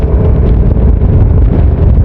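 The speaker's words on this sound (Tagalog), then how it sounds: "May kabagalan dahil napakalakas kasi ng hangin ha." Strong wind buffets the microphone during a race on a road in the Philippines, with a constant low roar and rumble, loud and unbroken throughout.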